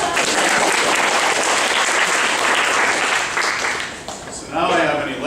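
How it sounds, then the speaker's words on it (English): A lecture audience gives loud, sustained applause for about four seconds, which dies down as the lecturer starts talking again. "you can clap."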